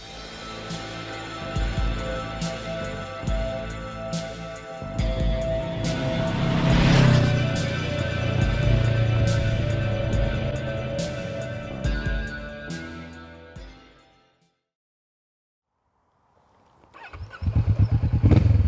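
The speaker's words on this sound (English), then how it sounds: "Oh, you've turned the bike on as well." A Kawasaki Vulcan S motorcycle engine runs with a steady, fairly loud rumble, drops out into a few seconds of near silence, then roars back in at the end.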